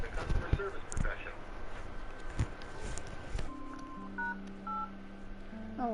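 Touch-tone dialing beeps from a phone calling AT&T customer service, a few short paired tones in the second half over a noisy room with faint background voices.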